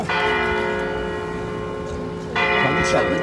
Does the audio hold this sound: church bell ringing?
yes